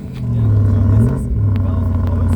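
A Range Rover Sport First Edition P530, tuned by Manhart to 653 hp with a custom Manhart exhaust, revs up loudly close by with a deep swelling roar and a brief dip before climbing again. Voices are faintly present around it.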